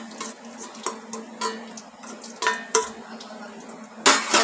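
A spoon repeatedly scrapes and clinks against a bowl while chana and urad dal batter is mixed with salt, giving irregular close taps and scrapes with no talking.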